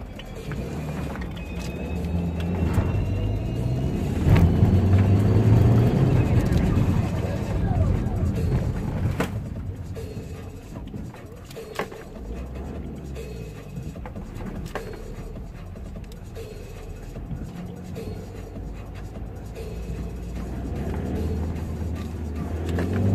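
Car engine in a getaway drive during heavy rain, rising to a loud surge and roar around five seconds, then running steadily underneath, with voices talking and laughing over it.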